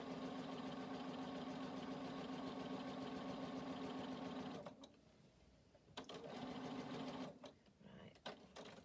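A sewing machine stitches at close range in rapid, even bursts: a long steady run, a brief pause, another short run, then it stops.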